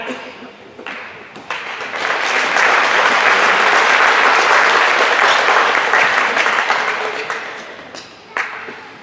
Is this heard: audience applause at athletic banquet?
yes